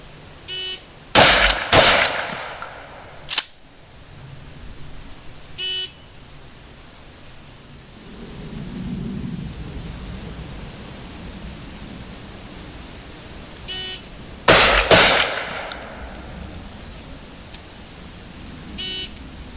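A Remington 870 pump-action shotgun and a 1014 semi-automatic shotgun fire outdoors, two loud, sharp blasts about thirteen seconds apart, each followed by a quick second crack or action noise, with quieter handling sounds and ambient noise between.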